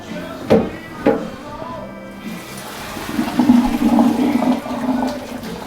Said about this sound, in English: Alright, now to try to drain these noodles.